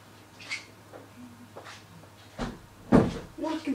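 Scattered soft knocks and shuffles, then a firm thud as a door shuts close by, followed by a few lighter bumps.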